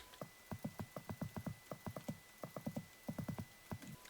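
Quick, fairly faint horse hooves clip-clop in Minecraft, coming in short irregular bursts of steps with brief pauses and no speech.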